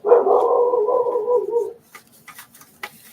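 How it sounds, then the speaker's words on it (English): One long, drawn-out dog bark rings out close by, followed by a few faint clicks and rustles. "There's been another dog go by."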